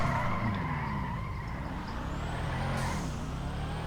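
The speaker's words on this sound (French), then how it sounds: "ça fait longtemps que j'ai pas tenu le drift sur GTA" Car tyres squeal and skid while drifting in GTA V, with a continuous loud screech over steady engine roar and no talking.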